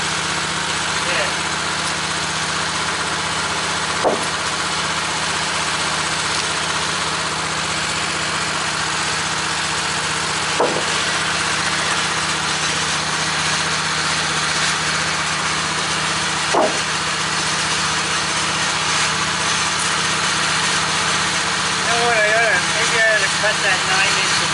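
A Woodmizer LT15 sawmill engine runs steadily at a low idle throughout, with a few brief knocks and clunks of lumber being handled nearby.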